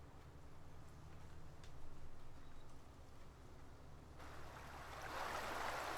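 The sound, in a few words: flowing water in Farming Simulator 19 video game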